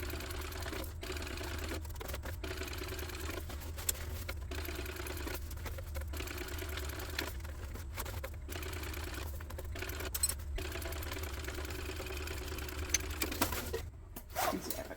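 A sewing machine runs in quick, continuous bursts, top stitching the lining of a tote bag, with brief pauses between runs and a fairly quiet, even mechanical whir.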